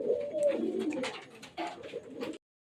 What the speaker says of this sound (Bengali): তো এই বন্ধুরা এই পায়রা আছে